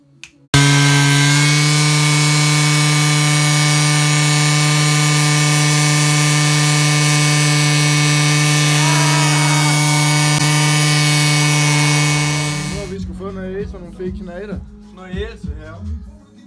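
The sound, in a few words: banger race car doing a burnout, spinning its tyres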